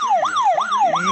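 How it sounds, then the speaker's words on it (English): A toy buzzer button plays a police siren effect, a wailing tone sweeping up and down about three times in quick succession, loud and close with no talking. "That's the police siren"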